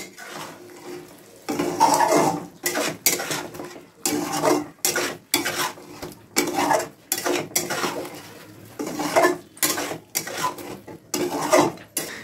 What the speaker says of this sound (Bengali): এবার চিকেনের সাথে এই মশলাগুলো মিশিয়ে নিচ্ছি।